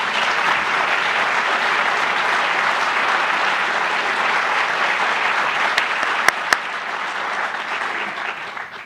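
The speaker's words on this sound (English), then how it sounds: "Folks, I think that deserves a round of applause." A crowd at a county State of the County address gives a sustained round of applause, a loud, dense, even roar of clapping that holds for several seconds before fading near the end.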